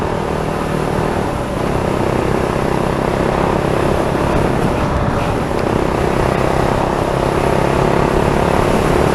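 Steady, loud rumble of a Fantic Caballero Scrambler 500 naked bike cruising at about 40 mph, its engine drone mixed with heavy wind roar throughout.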